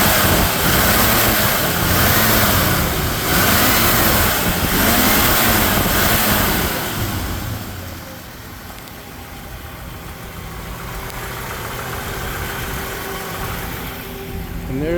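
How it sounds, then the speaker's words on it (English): A 1955 Chevrolet Bel Air two-door hardtop V8 with dual exhaust revs in several rising and falling swells, loud and close, then settles into a lower, steady idle. "55 Chevy Bel Air 2-door hardtop. Dual exhaust. Sounds good."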